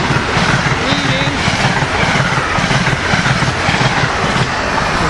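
An Amtrak regional passenger train, locomotive 7928 leading, speeds northbound through Cornwells Heights station, a loud close rush of wheels and rhythmic clickety-clack with a voice speaking over it.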